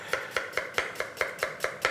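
A knife chops through an onion on a cutting board in a steady, quick rhythm of about nine crisp, close strikes, with no talking.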